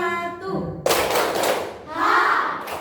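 A class of children claps together in rhythm, a sharp burst of many hands starting partway through and carrying on loud and close, with a second swell of claps near the end.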